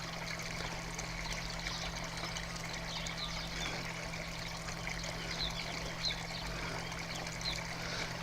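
Pumped water pouring from four filter pipes into a koi pond, a constant rushing, splashing stream with a low pump hum underneath, steady and close throughout with no voices.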